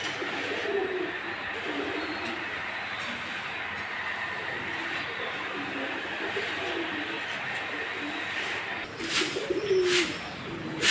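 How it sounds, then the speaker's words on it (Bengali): Pigeons coo on a cattle farm where paddy is drying outdoors, soft murmuring calls under a steady broadband background hum, with a few sharper clatters near the end. "এই যে কবুতরগুলা যেহেতু এখন ধানের মৌসুম কবুতরের খাবারের অভাব নাই"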